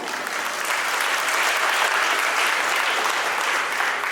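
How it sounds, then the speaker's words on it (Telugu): Audience applause at a student talent show, steady dense clapping from a crowd sustained for the full few seconds at an even level. "మీరు క్లాప్ ఇచ్చుకోండి"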